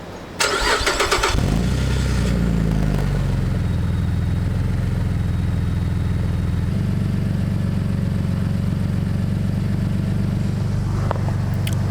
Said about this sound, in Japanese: アルファロメオの V6 の音です。